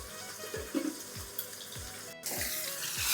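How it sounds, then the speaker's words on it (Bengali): Pieces of rui fish fry in a pan, a soft continuous sizzle with a few faint clinks and stirring thumps, heard alone at low volume. "তো মাছ কটা একটু ভালো করে লাল করে ভেজে নিচ্ছি"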